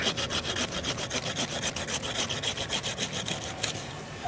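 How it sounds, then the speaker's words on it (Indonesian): Hand saw cutting through a bonsai branch, wood grating in a steady fast back-and-forth rhythm of strokes, close and fairly loud, with no talking. "Untuk bagian yang ini kita potong pakai gergaji."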